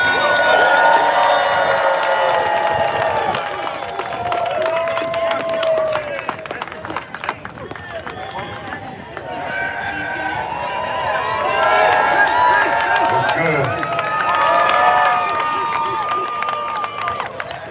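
A rally crowd claps and cheers for a legendary rapper taking the stage, with whoops and shouted voices rising and falling over steady applause at moderate distance.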